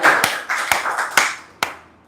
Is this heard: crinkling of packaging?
no